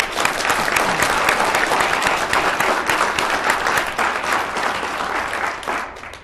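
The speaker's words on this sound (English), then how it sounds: "Those who believe no, please applaud." A town hall audience on the Affordable Care Act breaks into loud, sustained applause that fills the room, tapering off slightly toward the end.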